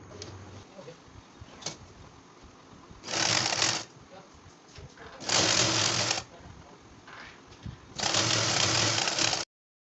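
Sewing machine stitching salwar fabric, with three sustained loud runs of stitching of about one to two seconds each, separated by quieter handling and fabric noise.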